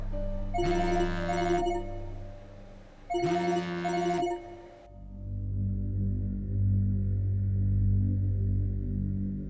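A telephone rings twice in a drama scene, two loud electronic bursts with a pause between, then a low steady hum takes over.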